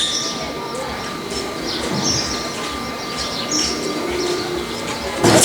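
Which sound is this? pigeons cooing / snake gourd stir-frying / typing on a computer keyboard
pigeons cooing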